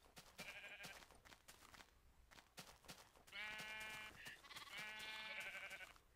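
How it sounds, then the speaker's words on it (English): Sheep bleating in a modded Minecraft Skyblock game, several clear nasal bleats in two main bursts amid clicks and short game sounds, fairly near and with no talk over them. "I know I have another sheep around here somewhere"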